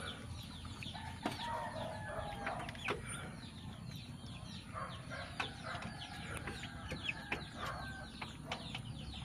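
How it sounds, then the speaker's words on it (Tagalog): Hens and chickens in a backyard flock, clucking and calling in a busy, overlapping chorus with occasional wing flaps and a rooster-like call, fairly close over steady outdoor background noise. "Yan ang inahin guys"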